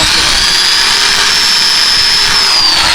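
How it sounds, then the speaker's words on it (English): A power drill whines loudly and steadily up close as it bores a hole, with a continuous high-pitched motor hum. "You drill a hole, now watch it."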